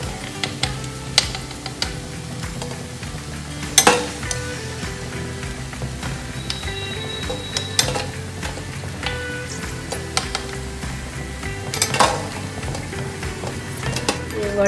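Moong dal vadas frying in hot oil in a pan, a soft, constant sizzle punctuated by occasional clinks and scrapes of a spoon stirring, close and fairly quiet.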